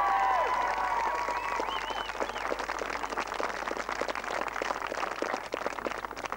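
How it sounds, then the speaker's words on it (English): Crowd applauding after an All-Ireland Intermediate club football final between Ilen Rovers and St Michael's, steady broadband clapping over a whistling tone at the start, sustained throughout at moderate distance. "they deserve a warm round of applause for what they deserve up here today"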